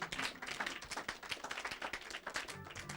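A church congregation clapping: dense, rapid, fairly faint hand claps from many people, continuing without a break.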